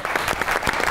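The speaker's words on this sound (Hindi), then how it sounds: "तो आपकी बहुत सी तालियां निम्रा मेरा।" A studio audience on a Pakistani talk show claps for a guest, a brief loud burst of dense applause close by with uneven individual claps poking through.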